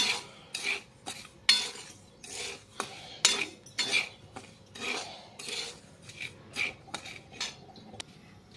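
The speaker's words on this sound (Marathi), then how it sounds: "हे बघा रवा भाजत आलेला आहे" Semolina dry-roasting in a pan, stirred with a spoon in a series of rhythmic scraping and rasping strokes against the metal, close and fairly quiet, with short pauses between strokes.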